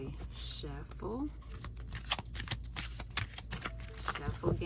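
A brand-new Rider Waite Smith tarot deck is shuffled, giving quick soft riffling clicks and papery flutters in short bursts, with a voice speaking briefly near the start.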